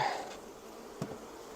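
Soft honey bee buzzing hums steadily at low level from a swarm in hive boxes, with a brief thump midway; no voices.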